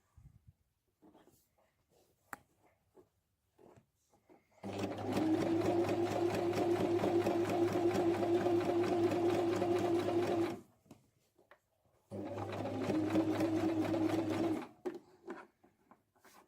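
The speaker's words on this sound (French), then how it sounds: "Donc là, on va coudre là." A sewing machine stitches a bag organiser in two long steady bursts of rapid mechanical hum, about six seconds and then about two and a half seconds, close and loud, with quiet pauses and faint handling before and between.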